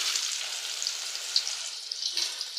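Potato chips frying in hot oil, a steady close bubbling sizzle with fine crackles and small pops throughout, with no talk.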